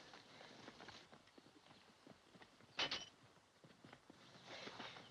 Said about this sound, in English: Those are our horses.